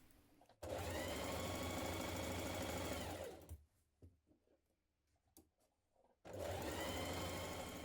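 Sewing machine stitching the side leg seam of trousers, two loud steady runs of rapid motor-driven stitching separated by a pause filled with small handling clicks and fabric rustles.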